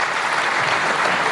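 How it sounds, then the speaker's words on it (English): Dense applause from a conference audience at a panel discussion, steady clapping throughout, loud and full with no pauses. "A big round of applause"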